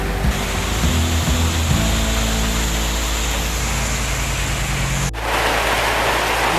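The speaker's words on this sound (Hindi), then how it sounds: "बहुत ही शानदार बारिश चल रही है" Heavy rain falls on a road in Aurangabad, a dense, loud, continuous roar of broadband hiss with a low rumble underneath and a brief dip before the downpour resumes.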